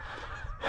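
Canada geese honking on a combined goose and turkey hunt, a loud close burst of calls that swells toward the end over steady background noise.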